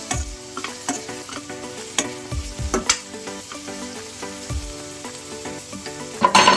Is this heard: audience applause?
no